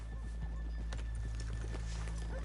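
Hooves clip-clop in a steady rhythm on a town street in Red Dead Redemption 2, a horse whinnies faintly, and low murmurs sit under a constant rumbling background.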